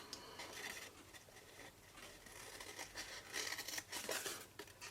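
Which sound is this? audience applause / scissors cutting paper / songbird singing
scissors cutting paper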